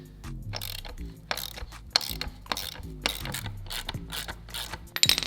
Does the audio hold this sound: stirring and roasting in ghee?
no